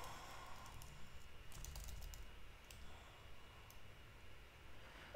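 Someone types a command on a computer keyboard, producing soft, quick key taps in a short flurry, faint and close, with no talking.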